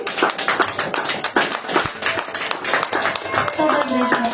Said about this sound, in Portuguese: Receba a serva de Deus com as palmas alegres, igreja